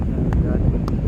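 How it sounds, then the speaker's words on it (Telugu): Strong wind at Nizampatnam beach, where boats are moored, buffets the microphone in a constant low roaring rumble while a person talks over it. "గాలి మాత్రం మామూలుగా లేదు ఫ్రెండ్స్."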